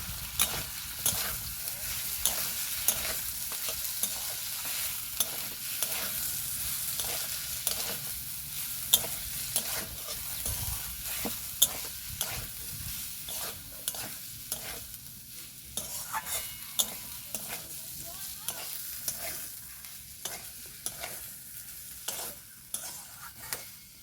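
Poppy seed paste being stir-fried in oil for a drumstick and potato posto dish: a steady low sizzle runs under a spoon or spatula scraping the pan in a regular rhythm, close and clear, with no talking.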